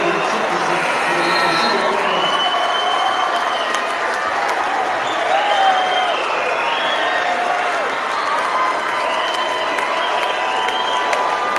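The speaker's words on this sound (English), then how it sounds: "Crowd erupts here late in the fourth." A high school basketball crowd at a McDowell versus Prep game roars and cheers late in the fourth quarter, a sustained loud swell of shouting and applause with sneaker squeaks and a commentator talking over it.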